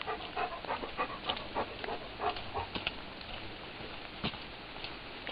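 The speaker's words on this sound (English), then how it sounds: "There's my other dog." Dog panting close by, quick rhythmic breaths with light patters and small shuffling sounds, faint and with no talk.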